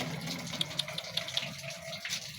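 Very cold water runs while someone washes up, a steady wet gush with small splashes and clinks, moderately close and with no talking.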